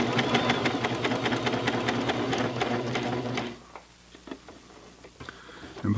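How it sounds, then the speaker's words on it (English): A Babylock Diana coverstitch machine sews fabric with a rapid, steady mechanical whir and ticking, then stops abruptly partway through, leaving a few faint clicks and handling noises in a quiet room. "Trying to follow along, trying to keep that fold in the middle, in between the two needles, as close as I can."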